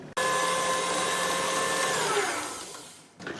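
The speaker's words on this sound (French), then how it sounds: "on va commencer à fouetter à vitesse 1 pendant 2-3 minutes et ensuite je vais augmenter la vitesse petit à petit" Electric hand mixer whisking mascarpone cream for a Kinder Bueno layer cake, a steady loud motor whine with tonal hum that runs unbroken for about two seconds, then slows and fades out before a brief knock.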